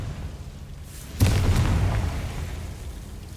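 A Confringo fire-blast spell explodes in Hogwarts Legacy: a single sudden booming burst that rolls into a rumbling, crackling tail, heard alone after a low steady background.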